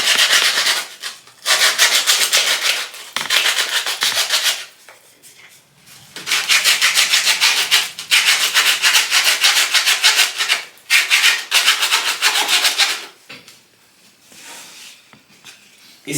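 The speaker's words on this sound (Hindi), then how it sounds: "इस रेजमाल को लेकर के और ये जो पोर्शन है हमारा, इसको रब करना है हमें।" Emery paper rubbed hard across a conveyor belt surface during a repair, giving loud, close rasping strokes in long bursts with brief pauses between, ending in quieter rubbing.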